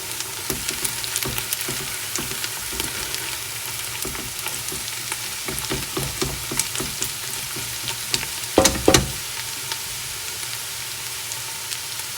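Chopped onions fry steadily in a pot for kabuli pulao, turning golden brown, with a continuous sizzle, repeated scraping stir strokes, and a louder clatter near the end; no one speaks.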